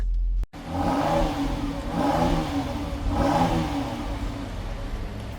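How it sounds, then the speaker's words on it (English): A 2025 Dodge Durango GT Plus SUV engine revs three times in a row, each rise roaring up and falling back, loud and close, with no talking. "let's listen the sound of this car and let me show you how this bad beast sounds like"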